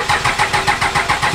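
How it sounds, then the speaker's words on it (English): A fifth-generation Ram pickup truck engine cranks and catches, with a steady pulsing rhythm of roughly eight even surges as it turns over close to the microphone, no talking. "we're gonna get this thing started up and we're gonna let you kind of hear how low it idles"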